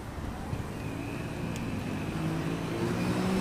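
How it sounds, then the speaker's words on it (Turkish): Car and motorcycle engines outdoors, a moderate rumbling hum of passing traffic with a rising engine tone toward the end, steady and mid-distance without talk. "Araba ve motor sesleri için kusura bakmayın dostlar."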